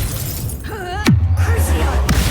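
The Confringo spell cast in Hogwarts Legacy: a sharp, bright burst with a quick shattering crack, followed by a low sustained rumble, then a second smaller crack, with no speech over it.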